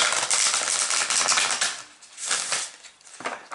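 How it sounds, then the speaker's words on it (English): A deck of cards is riffle-shuffled up close during a psychic card reading. Rapid fluttering bursts of card edges come in several quick passes, with brief pauses between them and no talking. "Give me a moment to shuffle the cards"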